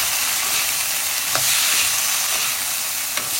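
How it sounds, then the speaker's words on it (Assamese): Peas fry in hot oil, a close, steady sizzle with faint stirring scrapes and a couple of soft utensil taps, continuous and without talk. "অলপ মটৰ ভাজি খাম।"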